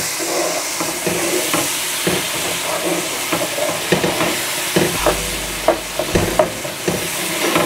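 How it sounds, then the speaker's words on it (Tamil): Dissolved tomato sautéing with fish curry powder over raised heat for a Sheela meen (barracuda) curry, a loud steady sizzle broken by frequent stirring scrapes and clinks close by. "இப்போ கொஞ்சம் நெருப்பை கூட்டி விட்டு வதங்க விடலாம்."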